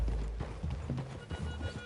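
Rhythmic hoof clip-clops from video game horses moving at a walk in Red Dead Redemption 2, fairly close, with a low rumbling background and an occasional faint whinny.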